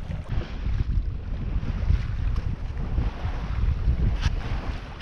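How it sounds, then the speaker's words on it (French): Strong wind roars steadily while a sailboat cruises alone through the Charentes straits, mixed with rushing water and low wind buffeting on the microphone throughout, with no voices. "quand même ça souffle et puis ça souffle"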